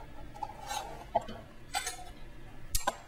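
A spoon mixing corn salad seasoned with cumin in a bowl, quiet scattered clinks and scrapes against the dish, a few sharper taps, no talk.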